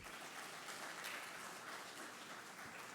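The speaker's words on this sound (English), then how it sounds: "Can we give him another round of applause" An audience claps continuously, a steady wash of applause that stays even from start to finish, heard from a distance.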